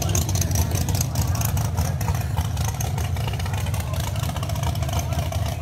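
Race car engines idle and rumble at a small tire drag race, a loud, continuous low growl with occasional revs, heard alongside an announcer's voice.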